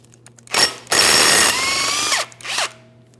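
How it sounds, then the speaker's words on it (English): A power tool, likely an impact driver or drill, removes a 13mm mounting bolt from the brake rotor hub of a Ford Transit 250 van, with short close whirring bursts over a steady background hum and no talk. "we're going to remove all 5 of our 13mm mounting bolts."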